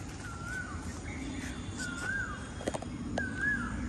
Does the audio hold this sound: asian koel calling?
yes